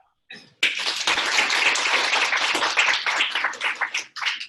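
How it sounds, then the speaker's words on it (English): A small audience claps for Nicole at a business talk, a dense burst of applause that starts abruptly, holds steady, then thins into scattered claps before one last flurry. "Let's give her a round of applause."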